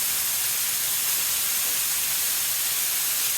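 Carne asada meat sizzles steadily in two hot skillets, a loud, even hiss that holds without a break and has no voices over it.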